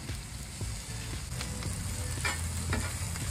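A ribeye steak sizzles on a Suburban griddle, a steady close frying hiss with occasional light scrapes and taps, no voices.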